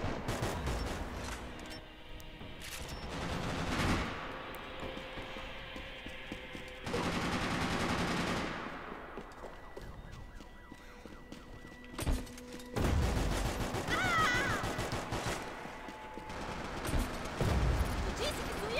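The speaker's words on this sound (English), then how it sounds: "I'm just trying to kill you with this bad gun here" Weapon fire in Max Payne 3 multiplayer from a weak gun: scattered rapid shots and bursts mixed with other gunfire, a siren-like wail and busy game effects across the whole stretch.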